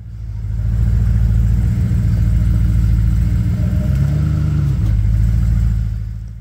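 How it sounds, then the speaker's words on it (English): A 1974 GMC Jimmy engine runs loud and close with a low steady rumble and a brief rise in pitch partway through as the truck is pulled out of the shop. "look at the finished product before I pull the Jimmy out of the shop"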